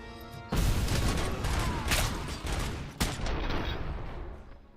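Dense gunfire in a Robocop video game rattles in continuous rapid bursts with heavy booming impacts, loud and close throughout, with no speech.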